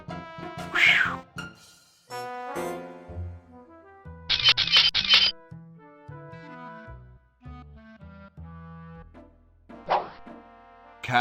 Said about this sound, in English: Sounds like the cat's caught a moose up there.